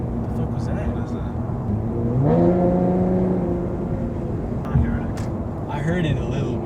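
An Infiniti Q50 with a Borla exhaust revs up with a rising engine tone, then settles to a loud, droning cabin rumble; people talk during it.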